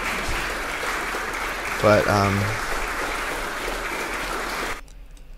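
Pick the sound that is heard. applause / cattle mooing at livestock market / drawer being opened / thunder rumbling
applause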